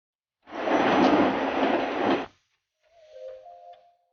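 Train station ambience in New York City: a broad, loud rushing roar of a passing train lasting about two seconds, then a softer stretch with a faint tonal hum or squeal as the noise settles.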